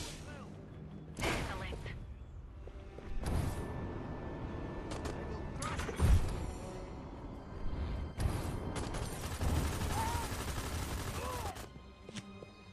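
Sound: gunfire in the video game Destroy All Humans 2 Reprobed

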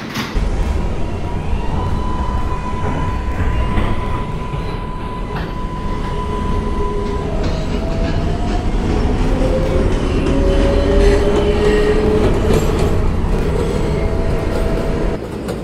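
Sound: R142A subway train, Woodlawn bound 4 train

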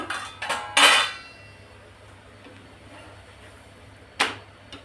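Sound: paratha being moved onto a plate

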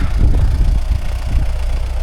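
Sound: MTZ tractor engine running while clearing snow

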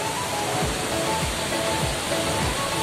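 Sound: Pita river waterfall in Sangolquí, Ecuador

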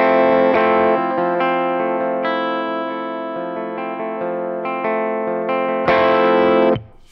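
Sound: electric guitar played through a compressor pedal

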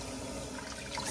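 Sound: tap water running to rinse

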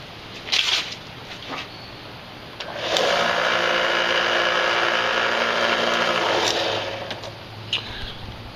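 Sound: sander rounding edges of leather knife sheath

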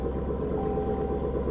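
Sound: supercharged V8 car engine idling

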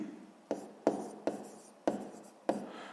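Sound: writing down a math answer by hand

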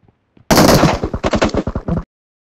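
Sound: gunfire in video game PUBG Mobile

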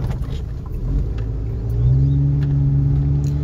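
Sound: pickup truck driving

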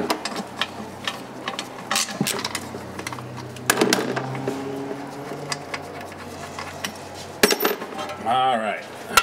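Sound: removing the oil pan from a Rolls-Royce Silver Cloud GM transmission

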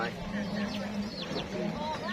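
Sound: chicken clucking, fortune-telling lottery chicken

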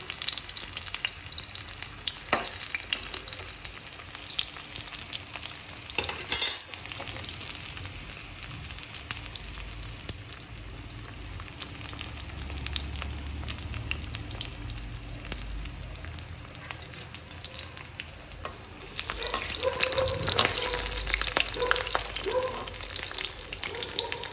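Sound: bitter gourd (karela) frying with masala in oil

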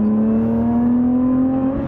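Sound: Lotus Evora 400 interior engine noise while driving

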